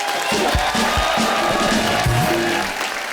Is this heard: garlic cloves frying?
no